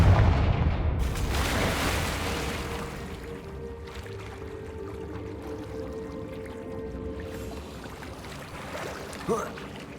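Confringo fire spell in Hogwarts Legacy, a loud booming blast up front that decays into a long rumbling, crackling tail, with a brief sharper hit near the end.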